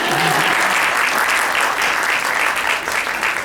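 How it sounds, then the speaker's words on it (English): Dense, steady applause from an audience at a medical education event, loud and continuous throughout with no pauses. "You can clap."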